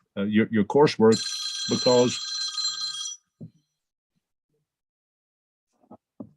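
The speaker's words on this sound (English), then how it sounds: "You can tell I'm old fashioned with that ringtone" An old-fashioned telephone bell ringtone rings briefly, a bright metallic trill of about two seconds, overlapping and following speech, with silence after.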